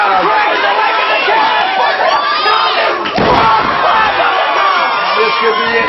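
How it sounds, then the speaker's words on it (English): A wrestling event crowd roars and cheers loudly and continuously, with shouts rising as a wrestler heads to the top rope and a brief dip around three seconds before swelling again. "Listen to the crowd."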